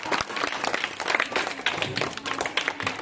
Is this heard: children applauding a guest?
yes